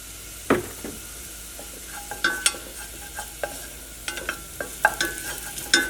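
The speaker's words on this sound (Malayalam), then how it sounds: "ഇനി നെയ്യിൽ കിടന്നിട്ട് ഈ ഉള്ളി നന്നായിട്ടൊന്ന് മുരിഞ്ഞ് വരട്ടെ." Onions and turmeric fry in ghee in a pan, a soft steady sizzle punctuated by a series of sharp spatula taps and scrapes against the metal, close up with no talking.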